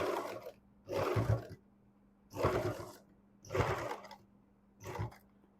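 A sewing machine stitches a prince cut blouse in five short, evenly spaced bursts with brief pauses between them, close and moderately loud over a low hum.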